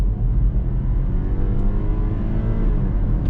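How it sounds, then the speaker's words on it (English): A BMW X3 30e plug-in hybrid's B46 four-cylinder petrol engine revs hard under full-throttle acceleration in sport mode, a loud, steady rising drone heard from inside the cabin with road noise. "instantly the engine revs higher than in other configurations of this B46 motor I've tried"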